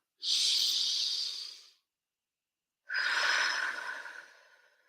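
A person takes a deep breath during an emotional freedom technique session: one long airy inhale, a short pause, then a long slow exhale, close and clear with nothing else heard.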